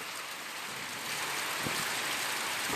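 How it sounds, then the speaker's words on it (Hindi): Early-June rain falling in India, a dense, steady hiss of raindrops pattering on surfaces, continuous and fairly loud, growing slightly heavier partway through, with no voices. "बरसात हो रही है"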